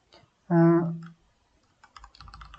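A computer keyboard is typed on to fill in a sign-up form in a Flutter chat app. A short tonal hum comes first, then a quick run of light, close clicks and taps near the end.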